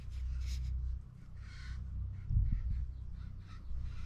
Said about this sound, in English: There's a bird on top of my camera. Look at him, he's pecking my mic.